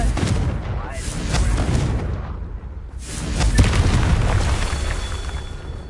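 Explosive Confringo spell fired in the video game Hogwarts Legacy, loud booming blasts and crackling bursts repeating over a dense rumbling battle backdrop, with a short lull in the middle.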